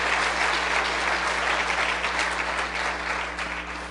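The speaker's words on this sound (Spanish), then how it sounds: "Dele un aplauso al Señor." Church congregation breaking into loud applause, a thick, continuous roar of clapping that stays strong for several seconds and eases slightly at the end, over a steady low electrical hum.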